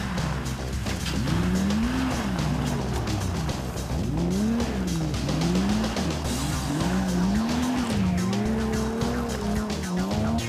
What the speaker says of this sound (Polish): ten groźny obrót między drzewami Wojciecha Bludnika w BMW 323.